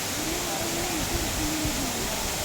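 A waterfall sends up a constant broadband rush of falling, splashing water, close and loud, with a faint voice murmuring beneath the roar.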